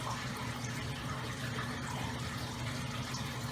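Water squirts from a turkey baster into a small test tube from a freshwater aquarium test kit, making a continuous close, gushing splash that fills the whole stretch with no talking.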